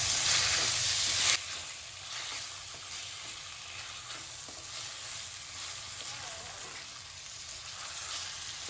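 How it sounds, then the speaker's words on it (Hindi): Mutton sizzles and fries steadily in hot oil with onion, ginger and garlic over a high flame, a loud continuous crackle that starts with a brief brighter burst, then settles into an even sizzle with no voices. "प्याज, अदरक, लहसुन सब मसालों को अच्छे से 2 मिनट हम बड़े गैस पे भून लेंगे।"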